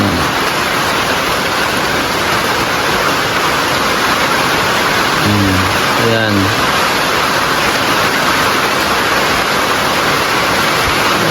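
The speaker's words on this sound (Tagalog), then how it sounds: "Grabe nga ang ulan." Heavy rain pours down steadily and loudly, a dense, constant roar that fills the whole stretch, with a brief voice speaking partway through.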